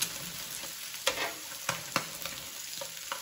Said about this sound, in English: So we're gonna just fry it until it's brown.